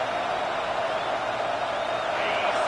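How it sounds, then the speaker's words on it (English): A football stadium crowd roars to back its defense, a dense, steady wall of noise holding at a constant loud level throughout without breaks. "Listen to this crowd just shaking the girders of this place, trying to help their defense."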